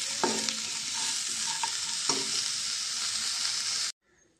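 Cauliflower stir-fries in a pan with a close, steady sizzle. A few spoon scrapes and clacks come through before the sound cuts off abruptly into near silence.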